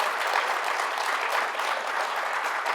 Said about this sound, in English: If you all would join me in giving our speakers a round of applause.